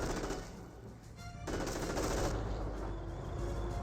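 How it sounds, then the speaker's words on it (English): A .30 cal machine gun in the Company of Heroes strategy game fires sustained rapid bursts, a dense continuous rattle that swells louder midway and keeps going under the distant battlefield din. "they're doing now the 30 cal suppressing down the Panzer Grenadier"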